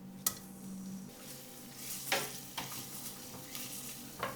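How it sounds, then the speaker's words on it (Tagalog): Garlic sautés in a pan for a pork pandesal wrap, a steady hiss of frying with intermittent scrapes and clacks of a utensil stirring, close and alone without talk. "Magigisa muna ako ng bawang."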